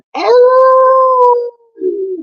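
A single loud, close howl in a werewolf style, a long sustained tone that bends slightly and then drops off, followed by a shorter lower trailing cry.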